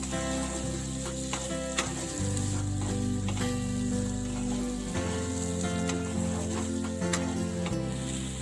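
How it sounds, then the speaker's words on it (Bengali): Green peas stirred in spiced oil in a kadai for a vegetarian cabbage dalna: continuous loud sizzling with scattered spatula clicks, over a low steady hum. "এবার আমি এর মধ্যে দিয়ে দিচ্ছি কড়াইশুটি দিয়ে কিছুক্ষণ নেড়ে চেড়ে নেব"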